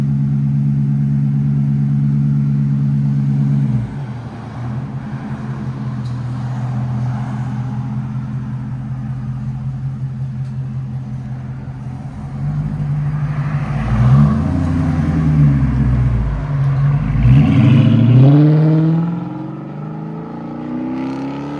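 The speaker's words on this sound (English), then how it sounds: "Chrysler 300. NTR race muffler mids, rear delete, and 5-inch tips." A Chrysler 300 with a 5.7L Hemi V8, NTR race muffler mids, rear muffler delete and 5-inch tips idles with a deep, steady burble, then revs up repeatedly in rising, roaring bursts, loud and close, with no voices.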